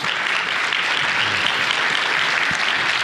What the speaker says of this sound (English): Let's please give him a round of applause and welcome him to the stage.